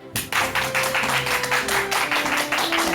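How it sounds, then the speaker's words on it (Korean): A studio audience on a television talk show claps to welcome a parenting-education expert guest. The applause is moderate and steady under a sustained musical theme, starting abruptly and running throughout. "큰 박수로 맞이해 주시기 바랍니다"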